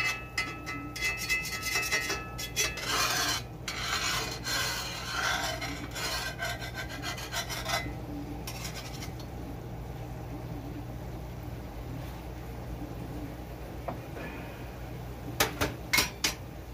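Repeated rasping scrapes on a new Lodge 10.25-inch cast iron skillet, fresh out of the box, come in rough bursts close up, then thin into quieter rubbing with a few sharp scratches near the end.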